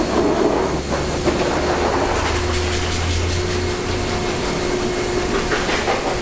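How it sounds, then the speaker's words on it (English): A Metrofax Master Blaster Revolution heated-air car dryer blower, around 8 horsepower, runs with a steady, loud roar and a thin high whine that holds unchanged throughout, with no talking. "this is the Master Blaster Revolution blowers that we're using"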